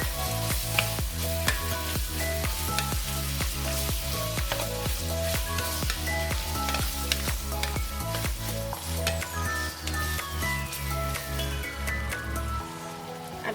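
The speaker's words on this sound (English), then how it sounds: "We're going to stir fry until it's cooked." Ground beef and basil leaves stir-fry in a pan with a constant loud sizzle. Frequent sharp scrapes and clacks from the stirring utensil break through it, and no one speaks.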